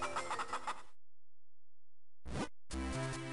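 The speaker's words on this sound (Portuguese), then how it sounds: "Sai da frente, a última galinha." Chicken clucks from the Zelda Minish Cap video game, two short bursts of game audio separated by silence, with a final longer busy stretch of clucking and sound effects.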